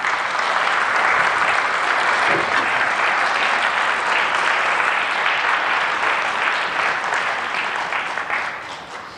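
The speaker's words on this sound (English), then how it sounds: "please give a round of applause" Sustained applause from an audience at an award presentation, dense and steady throughout before tapering slightly at the end.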